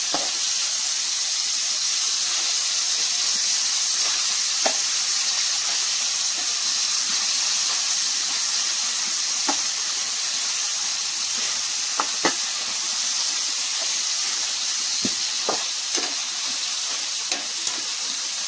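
Dried fish frying in hot oil in a pan, a steady close hiss and sizzle running throughout with occasional soft clicks and taps, no voices.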